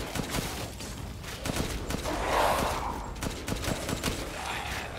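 A handgun fired in the horror game Resident Evil Village, a quick string of sharp, close shots in irregular rhythm, with a breathy vocal sound partway through.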